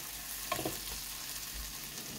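Shrimp frying in a pan with green garden tomatoes and mustard, a steady close sizzle with faint stirring clinks, no voices.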